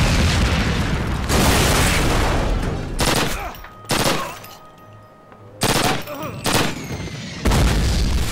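Explosive charge blasting open a door in Call of Duty (2003), amid wartime gunfire: several loud, heavy bursts and booms, separated by brief lulls of low rumble.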